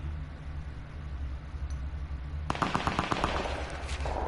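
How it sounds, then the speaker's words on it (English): A burst of rapid gunfire in Fortnite Battle Royale crackles in after a stretch of low rumbling background, quick repeated shots continuing to the end. "So then we can hear shots"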